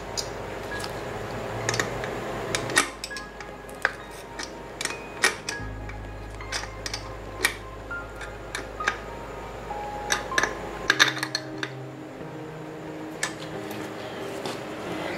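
Wrench tightening intake bracket bolts on an LQ4 408 stroker engine build, sharp metallic ratchet ticks and clicks in irregular bursts close up, with a low hum underneath and no talking.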